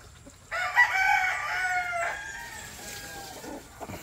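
A Boston Roundhead gamefowl rooster crows loudly and close by in one long call, followed by softer clucking, with no talk.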